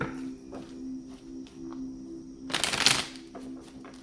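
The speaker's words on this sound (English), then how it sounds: "2 more shuffles for Leo." A deck of tarot cards being shuffled, a brief close riffling burst of card flutter near the middle, otherwise quiet with a steady low background hum.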